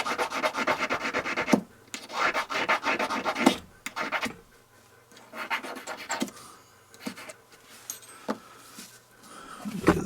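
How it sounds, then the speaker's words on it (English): A round stone smooths the slot in a new cap-and-ball revolver frame, steady close rasping strokes in bursts separated by brief pauses. "So I'm using a round stone and I'm just smoothing that area out."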